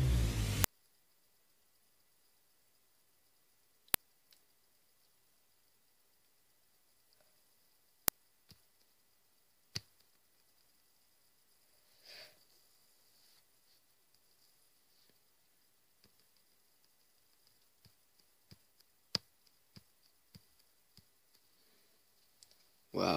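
Scattered faint, sharp clicks from tapping the button in a Useless Button phone app, single taps spaced irregularly over near silence.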